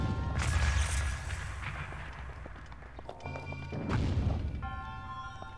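A bomb blast in Zelda: Breath of the Wild goes off as a loud, full crash with a rumbling tail, followed by a second heavy boom and scattered game effects.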